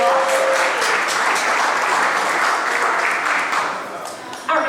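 A crowd gives a round of applause for sponsors at a cystic fibrosis charity tasting event, loud sustained clapping with a few cheers, fading slightly near the end.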